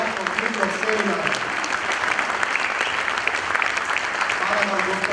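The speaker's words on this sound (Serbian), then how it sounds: "molim vas jedan veliki aplauz" A seminar audience applauds the director, steady dense clapping that fills the whole stretch at an even level, with a few voices faintly mixed in.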